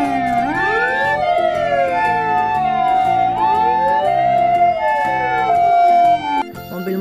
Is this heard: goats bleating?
no